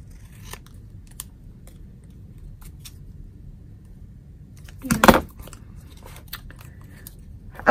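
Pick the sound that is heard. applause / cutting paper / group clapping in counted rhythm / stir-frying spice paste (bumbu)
cutting paper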